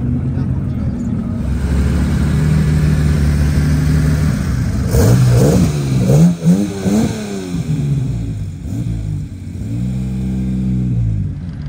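Classic rally cars at the Tour Auto 2025 sit near the start line with a steady low engine drone, breaking midway into a run of sharp revving surges before settling back to a rough idle.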